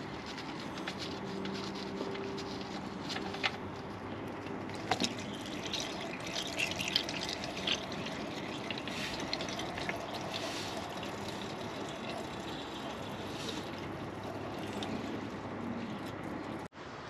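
Engine oil drains from the drain plug hole of a BMW 328i oil pan in a steady, continuous patter and trickle that stays even and fairly quiet, with no talk.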